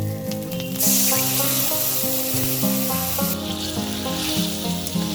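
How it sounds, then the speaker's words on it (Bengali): Taro stolons (kochur loti) fry in a hot pan, and a burst of loud sizzling and hissing flares up as a little water is poured in, then settles back into steady crackling. "এবার আমি এর মধ্যে জল দিয়ে দেবো"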